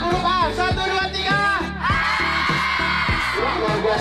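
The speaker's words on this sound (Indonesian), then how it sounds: "Semuanya teriak huruf A." Group of junior high school students on a study tour shouting together, a loud sustained crowd yell with strong voiced harmonics and a brief dip midway, filling the whole span.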